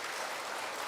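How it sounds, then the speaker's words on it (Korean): A church congregation at a Sunday morning service in Ulsan, South Korea, applauding together: dense, loud, continuous clapping that fills the room, with no voices heard over it. "우리 박수 한번 부탁드리겠습니다."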